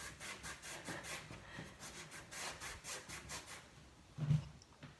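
Shiny veneer furniture is rubbed for wet distressing, giving soft rhythmic back-and-forth scrubbing strokes, close and fairly faint, with a brief bump near the end and no talking.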